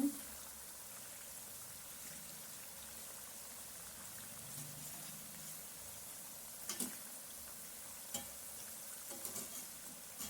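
Cauliflower pakoda fries in hot oil with a steady, faint, hissing sizzle and occasional soft pops and stirring clicks.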